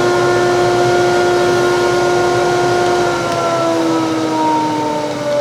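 A central vacuum system pulls air through a hose at a router table built into the wing of a Ridgid R4512 table saw. It gives a loud, steady whine with tonal drones that dip slightly toward the end. No one speaks.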